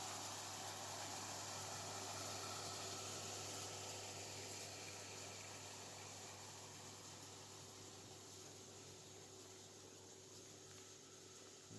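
An electric water pump motor runs at a workplace with a borewell, giving a steady, even hum with a constant hiss that stays level from start to finish, no voices over it.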